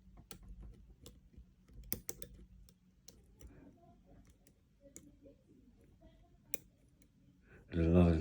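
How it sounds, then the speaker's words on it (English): Faint, sparse clicks and ticks come from a lock being picked with a Lishi-style 2-in-1 pick on an L4V lock, with irregular small metallic taps and a louder low burst at the end. "And another little click there on 4"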